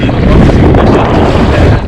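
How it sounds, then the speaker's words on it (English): Loud, steady coastal wind roars and buffets the microphone during kayak fishing, a dense rushing noise with no clear voice above it. "the wind made it very difficult to hear me speak"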